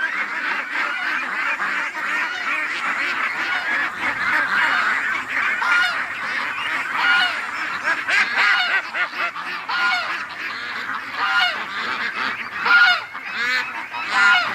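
A flock of farm ducks gathered near kiddie pools, quacking and honking continuously in a loud, dense chorus of overlapping calls close by for the whole stretch.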